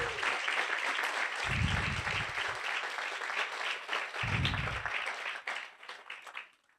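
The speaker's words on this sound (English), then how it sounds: "let's give a round of applause to the My Academy staff" Graduation ceremony guests applaud the academy staff with sustained, fairly quiet crowd clapping, punctuated by a couple of low thumps, before it thins out and fades over the final seconds.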